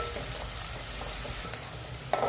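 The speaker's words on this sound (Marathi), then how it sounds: "आता आपण कांदा लाल करून घेऊयात" Onions fry until browned for an Agri-Koli prawn curry, giving a continuous, even sizzle close by, with soft stirring and a small clink at the very end.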